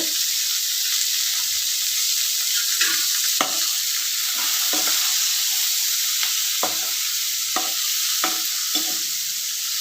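Pirandai (adamant creeper) sautés in a pan with a steady bright sizzling hiss, broken by a series of short scraping stirs at irregular intervals, close by with no talking.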